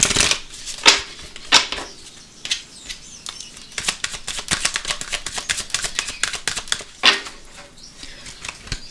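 Tarot cards are shuffled by hand before the deck is cut, with quick riffling and flapping bursts and soft slaps, recorded close and fairly loud, with no one talking.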